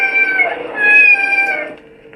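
A cat lets out a long, drawn-out meow with a rising and falling wail, loud and close, set in a Star Trek audio drama.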